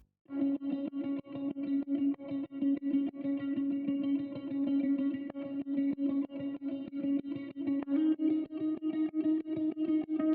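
Sidechain ducking on an 80s/70s disco-pop style beat: a sustained, effected tonal sound pumping rhythmically, dipping in volume at a steady quick pulse throughout, moderately quiet and with no voices.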